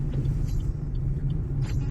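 Car engine idling after stopping on a dense, fog-bound road in Punjab in the cold: a steady low rumble close by, with no talking.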